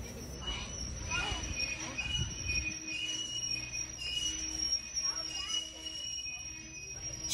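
A commuter train heads into downtown Chicago, with a rumbling ride noise that eases after a few seconds into a quieter hum with faint high wheel squeals, and voices murmuring faintly in the carriage.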